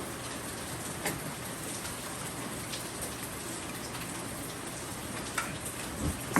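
Steady rain falls on surfaces with a dense, even patter, broken by a few louder drips and splashes, with no voices.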